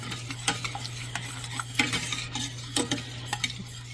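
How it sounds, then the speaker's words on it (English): Whisk stirring homemade Alfredo sauce with minced garlic and aioli seasoning in a pan, with irregular scraping taps over a soft sizzle and a steady low hum, close and moderately quiet. "You want to whisk it as much as possible though so it doesn't burn"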